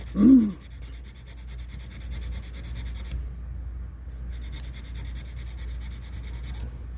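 Hand block sanding of firearm metal with 220 grit sandpaper, a faint, steady scratchy rubbing that runs continuously after a brief soft knock at the start, with no talking.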